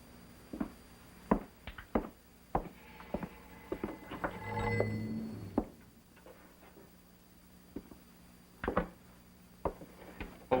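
An old telephone bell rings in an indoor scene from a colorized detective series, sounding in short, spaced bursts mixed with clicks and a quiet room background. No one speaks.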